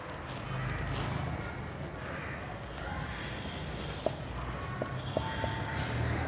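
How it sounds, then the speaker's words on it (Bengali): Pen or pencil scratching steadily across paper while a sentence is written out by hand, a continuous close, soft scraping with a few faint taps, alone without talk. "যখন আমি এই বাক্যটাকে সঠিকভাবে লিখব, পরপর লিখব"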